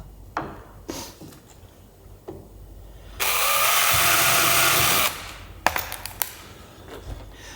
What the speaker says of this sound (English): Right, 5 more screws around the end bit,